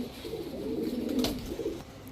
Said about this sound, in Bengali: এখন দেখাবো ব্লু বার পাইট রেসার একটা মাদি কবুতর